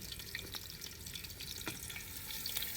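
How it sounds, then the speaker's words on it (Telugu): Ginger frying and being stirred in a pan outdoors for a New Year feast crackles with a soft, continuous sizzle and scattered spatters and scrape clicks. "అల్లం వేస్తున్నాం, గెలుకుతున్నాం"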